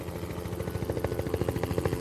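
The Project Zomboid helicopter event: a loud, close game helicopter with a rapid, steady rotor thump pulsing over a constant low engine roar throughout.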